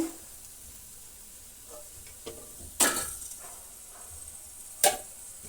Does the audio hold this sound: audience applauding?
no